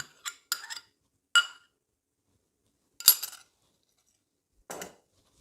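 A fork stirs dough made with store-bought 20% sour cream in a bowl, giving a handful of sparse, light clinks of metal against the bowl separated by quiet gaps.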